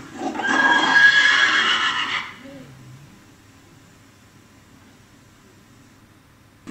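A horse neighs loudly in a film scene, one long shrill whinny lasting about two seconds, followed by a soft low snort and near silence.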